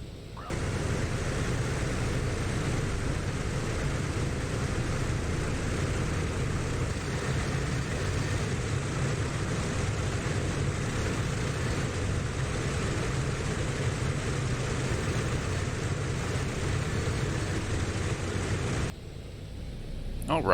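A PMDG DC-6B propeller airliner in a flight simulator taxis with a steady, droning hum from its piston engines and propellers that holds constant for most of the stretch, then drops off briefly near the end.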